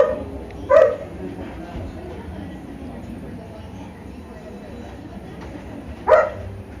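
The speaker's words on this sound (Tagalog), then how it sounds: "Palakasan ng kahol." Two short dog barks ring out about five seconds apart, moderately close, over a steady low background murmur.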